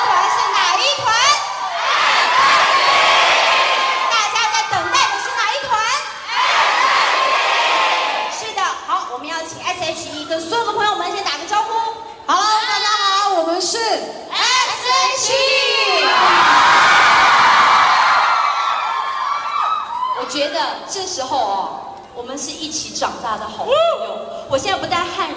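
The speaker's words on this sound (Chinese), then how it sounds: "我们要用现场所有朋友们最大声的尖叫声来欢迎 SHE" A crowd at a signing event for the Taiwanese pop group S.H.E screams and cheers loudly and continuously, with high-pitched shrieks and whoops swelling in waves and brief dips between them.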